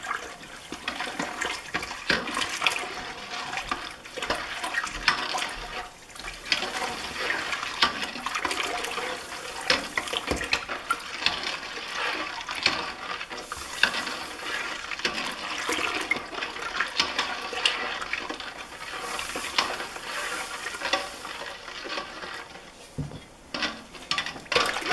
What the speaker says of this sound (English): I take and I siphon that sugar mixture back into the carboy